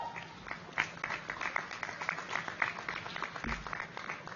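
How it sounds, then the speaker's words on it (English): Quiet audience applause at a white coat ceremony, many hands clapping steadily for parents, family and friends, heard from a distance and holding at an even level. "giving them a big round of applause for all that they do for you"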